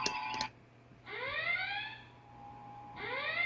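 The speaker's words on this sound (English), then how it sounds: "the next one is red alert, so I'll press that one" A whooping Star Trek red alert siren from a captain's chair electronics replica rises in pitch, repeats after a short pause, and follows a brief electronic beep at the start.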